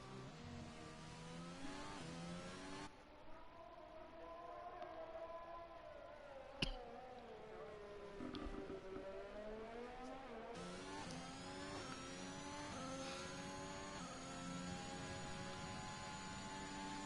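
Racing cars circling the Baku track in a sim-racing league game, engines whining in long rising and falling tones that overlap and shift as cars pass, fairly faint and steady, with a sharp click around the middle.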